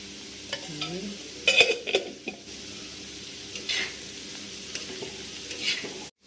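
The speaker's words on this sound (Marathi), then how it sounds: "तेल टाकलं, त्याच्यात कांदा, कढीपत्ता" Onion and curry leaves sizzle in hot oil on a griddle, with several sharp scrapes and clinks of a spoon stirring.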